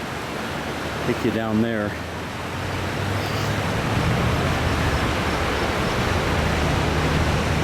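Broad, steady rush of a river flowing beneath a bridge at Pagosa Hot Springs, a constant close wash of water with a brief spoken word near the start.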